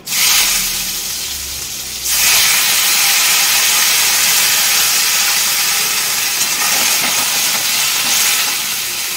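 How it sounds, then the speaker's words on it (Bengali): Ridge gourd slices drop into a hot pan of oil with five-spice seeds and crushed ginger, setting off a loud, steady frying sizzle that starts abruptly about two seconds in and continues unbroken to the end, with no talking. "পাঁচ ফোড়নটা সুন্দর গন্ধ বেরোচ্ছে, এবার আমি নেনুয়াগুলো ছেড়ে দেবো।"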